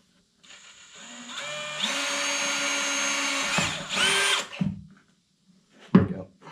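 A power drill bores a hole through the top of a metal fan shroud for a Cummins engine, its motor whining steadily for several seconds, then rising as the bit breaks through, followed by a few short handling clunks.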